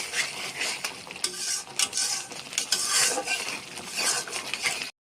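Curry masala frying in oil for a jackfruit and moong dal dalma, loud continuous sizzling with busy spoon stirring and metal scraping against the pan, close up, no voices.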